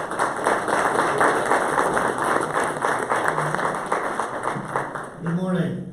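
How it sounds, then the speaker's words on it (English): Warm audience applause at a STEM forum panel as an executive director is welcomed, steady clapping from a crowd with speech-like murmurs running underneath, easing off toward the end. "Please give him a warm round of applause."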